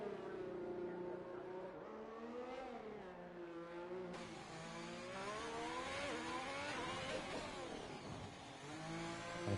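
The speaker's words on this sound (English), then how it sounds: "keep his car on track during this flying lap" A Formula 1 car in the F1 2021 video game runs a flying lap at the Belgian circuit, its high-pitched engine whining up and down through gear changes in one continuous, moderately loud stretch.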